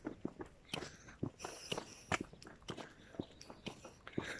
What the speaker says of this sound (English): Might be able to hear her footsteps in the background on the other side of the road.